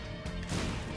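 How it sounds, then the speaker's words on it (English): A bomb goes off in Binding of Isaac: Afterbirth, a short, loud, muffled smash that lands midway through a steady layer of game sound and music. "I'm just going to use a bomb"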